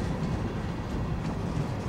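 CSX freight train 0820 in Central Florida's Bone Valley, two big engines hauling 50 empty hopper cars, rumbles past as a steady, dense low roar with no break.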